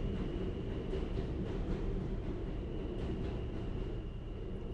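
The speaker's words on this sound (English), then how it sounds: "Train going by." A train rumbling past at a steady, continuous roar, loud low-frequency noise with a faint high tone, heard without talk.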